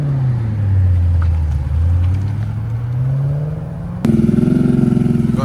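A supercharged BMW 645Ci V8 with an Akrapovic exhaust runs nearby, its loud note rising and falling through several revs before jumping sharply into a harder, higher drone near the end.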